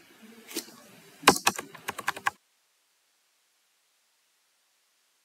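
Fast keystrokes on a computer keyboard, a quick run of sharp clicks that stops abruptly and leaves silence, close and fairly loud with no talking.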